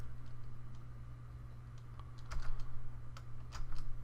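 Typing on a computer keyboard, scattered close key clicks in short irregular bursts over a steady low hum.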